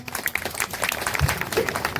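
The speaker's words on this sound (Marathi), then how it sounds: "तुमच्यासाठी टाळ्या तर झाल्याच पाहिजे" Audience applause at the opening of a campaign office, a short burst of moderate, scattered clapping from a small crowd indoors, with faint talk underneath.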